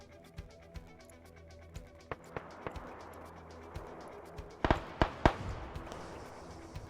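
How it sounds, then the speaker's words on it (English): A twin-barrel Marshall cannon fires in the video game Arma 3, with scattered sharp reports early on, then a tight cluster of louder bangs, over a rumbling battlefield background. "Now you're hearing that twin barrel Marshall firing off."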